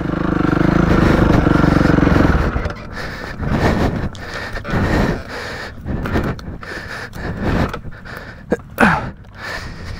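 A small scooter engine revs and strains in uneven bursts climbing a steep hill, loud and close, with breathy gasps and clatter mixed in.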